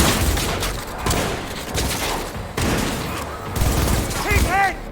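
Rapid gunfire from Cyberpunk 2077 combat rattles on in dense bursts over a constant roar of game sound, with a few sharp higher-pitched effects near the end; voices call out now and then underneath.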